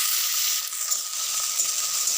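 Chopped onion fries in a pan with oil, dried red chillies and whole cumin, a bright continuous close sizzle that holds steady throughout without any talking.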